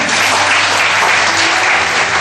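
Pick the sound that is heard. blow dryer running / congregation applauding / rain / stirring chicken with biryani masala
congregation applauding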